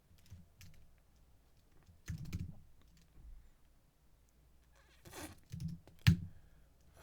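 Typing on a computer keyboard while writing JavaScript code, close scattered bursts of key clicks with pauses between them and a sharper tap near the end, quiet room, no voices.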